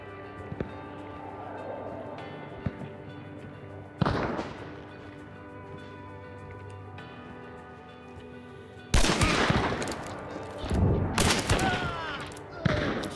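Gunfire in the video game Hunt: Showdown: a quiet stretch with a single sharp report, then a loud run of overlapping shots and booms near the end, over game ambience with people talking.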